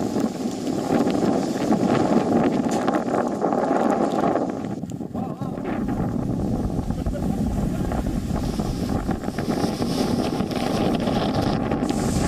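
Strong cyclone winds of Cyclone Tauktae roar continuously near Gateway of India in Mumbai, a dense loud rushing buffeting the microphone throughout with no pauses.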